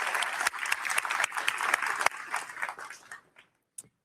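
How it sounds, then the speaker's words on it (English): Audience applause at a science talk on Argonne's user facilities, a dense burst of clapping that thins out and fades to silence, with a few last scattered claps at the end. "we need to give a very nice round of applause for Connie"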